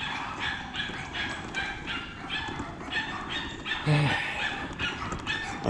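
A small dog barks and yips repeatedly in short bursts, fairly close, with a brief whimpering note partway through.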